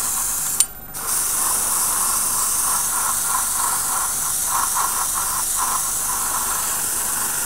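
Airbrush spraying paint onto a Tamiya 1/35 M48A3 Patton tank model, a steady close hiss after a brief click, with a faint fluttering rattle of the mechanism.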